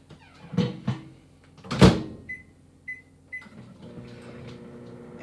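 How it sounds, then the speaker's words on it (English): Microwave oven door shutting with a couple of clunks, then keypad beeps as thirty seconds is set in a home kitchen, followed by the low hum of the oven starting. "And put this into the microwave for 30 seconds."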